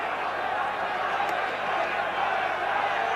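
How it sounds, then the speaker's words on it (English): Steady broad crowd roar from a packed stadium at the 1981 New Zealand versus Scotland rugby test, a continuous wash of cheering and voices at even loudness throughout. "The match restarts with the crowd cheering to warm themselves up"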